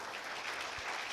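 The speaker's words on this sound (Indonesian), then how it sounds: "kita beri tepuk tangan bagi Allah kita" Congregation clapping during a Sunday church service, a faint, brief, even wash of applause.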